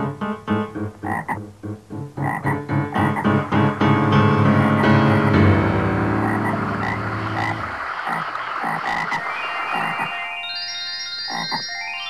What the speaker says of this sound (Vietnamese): Ê, mấy bạn nhìn kìa, nhái ra rồi đó.